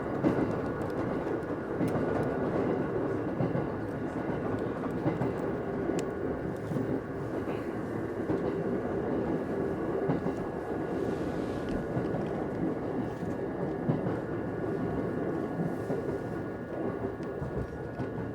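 An Oito Line train running on the rails through snowy country, a continuous loud rumble of wheels and carriage with faint rhythmic clatter, no talk.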